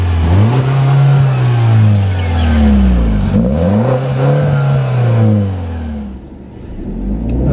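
A 2013 MINI Cooper S Paceman with a 181-horsepower turbocharged engine, automatic 6-speed and all-wheel drive, revs hard from inside the cabin, its engine note rising and falling through repeated gear-change sweeps, loud and close.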